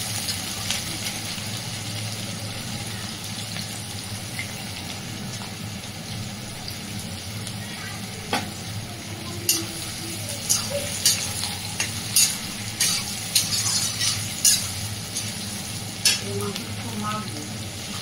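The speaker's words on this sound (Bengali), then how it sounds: "পেঁয়াজটা একটু লাল লাল করে ভাজা হবে।" Onion sizzles in hot oil while being fried until reddish for a Bengali mutton curry, with a steady crackle throughout and, in the second half, a run of sharp spatula scrapes and knocks against the pan.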